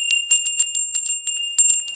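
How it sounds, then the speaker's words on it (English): A small bell rung to open sacred space chimes in quick repeated strikes, bright and clear with sustained high ringing tones, close by and alone with no voices. "Sometimes I'll use a bell,"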